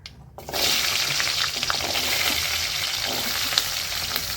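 A continuous loud sizzle and crackle of fennel seeds frying in hot oil starts abruptly and holds steady, with small pops throughout.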